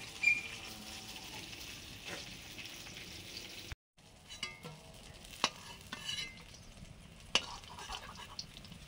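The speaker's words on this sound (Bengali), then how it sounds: "রুই মাছ ভাজা হয়ে গেছে" Rohu fish frying in a pan, a steady sizzle with occasional sharp stirring and utensil clicks, brief cut midway, no voices.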